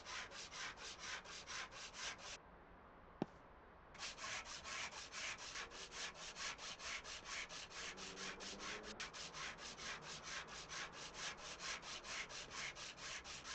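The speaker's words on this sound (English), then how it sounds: "Pick up the sander." A sander works over a car in the video game Car Dealer Simulator, making rapid rhythmic rubbing strokes in a fast steady pulse. The strokes pause briefly after about two seconds, with one sharp click, then resume at the same pace. No one speaks.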